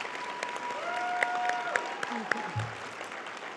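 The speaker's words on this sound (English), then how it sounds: "Let's give a huge round of applause for our" Audience applause for Ranchview Middle School award winners at a girls and women in sports luncheon, a steady dense wash of clapping hands with a few sharper spikes and some whoops, tapering off near the end.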